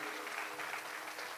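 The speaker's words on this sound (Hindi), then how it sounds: "एक बार तालियां बजा दो।" A live audience claps at a Haryana folk ragini music and dance festival, a dense, steady burst of applause that fills the whole moment without pause.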